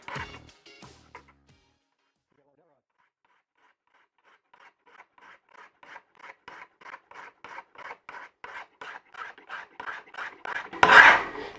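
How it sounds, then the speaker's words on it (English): Hand file working the bevel on a knife blade, a steady run of rhythmic rasping strokes that starts soft and grows louder and closer, ending with a harsh scrape. "Probably can't see it on the camera, but you'll be able to see it when you're filing."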